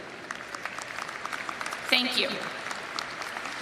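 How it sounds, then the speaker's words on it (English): Light applause from the audience at a spring university commencement ceremony for a college of education, soft scattered clapping over a public-address hum, with a brief spoken thanks partway through. "We will applaud them as a group."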